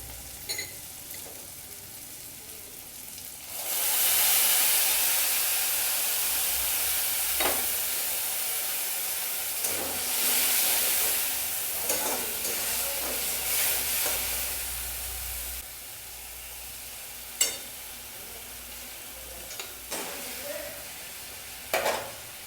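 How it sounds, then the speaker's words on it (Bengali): Sauce thinned with a little water is poured into a hot pan for chilli paneer, bringing a sustained loud sizzle with scraping stirs and occasional sharp clinks that gradually quiets as cooking settles. "এবারে যে সসটা রেখেছিলাম সেই সসটা গুলে আমি এটার মধ্যে ঢেলে দেবো।"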